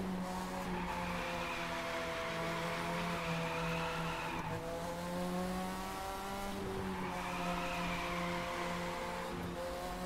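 Cars drift in the PC racing game The Crew 2, with a continuous engine whine sweeping up and down and a rising, falling tire squeal running through the whole stretch.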